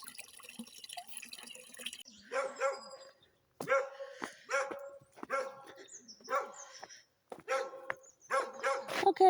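A friendly dog with a wagging tail barks in repeated short bursts, fairly close and loud, with brief pauses between the barks and a trickle of running tap water audible at the start.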